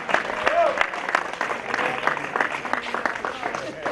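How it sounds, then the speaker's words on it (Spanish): Audience applause at an outdoor summer award ceremony, a sustained burst of clapping from a crowd lasting the whole stretch, fairly close and loud, with voices mixed in. "Fuerte aplauso, hombre, para ellos."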